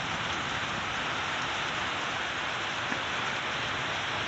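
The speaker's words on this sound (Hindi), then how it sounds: "कितना भयंकर बारिश पड़ रही है ये देखो" Heavy monsoon rain in Bijnor, India, pours steadily and loudly throughout, a dense, continuous roar of drops with no voices.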